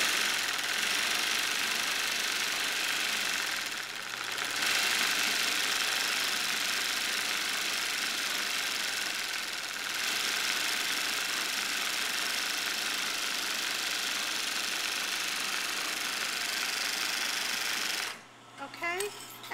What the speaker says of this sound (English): We just overlocked that one side.